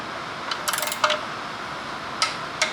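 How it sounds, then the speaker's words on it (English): Torque wrench set to 30 newton meters clicking while a fastener is tightened during an oil and filter service on a VW T5 van, a few faint, sharp metallic clicks and ratchet ticks over a quiet background. "set to 30, just push it till it clicks"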